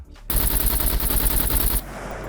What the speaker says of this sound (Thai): เดี๋ยวเราลองมายิงกันดูครับว่า เลเวล1เนี่ยจะสามารถป้องกันเราจากกระสุนของ AK ได้หรือเปล่านะครับ